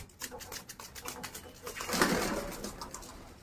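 Soft black Masakali pigeon cooing close by at a pigeon market in Lucknow, a low throaty coo mid-clip, with faint fluttering and a quiet background murmur.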